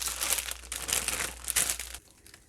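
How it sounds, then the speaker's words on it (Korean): A dried whitebait sheet (baengeopo) is cut into bite-size pieces, giving close, crisp crinkling and crackling for about two seconds before stopping. "뱅어포도 먹기 좋은 크기로 잘라줄게요"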